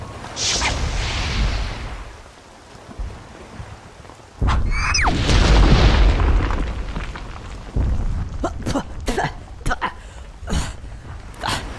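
Missile explosion in the video game Conker's Bad Fur Day, a loud sudden blast with a heavy rumbling roar that trails off, followed by scattered sharp bangs and crackles.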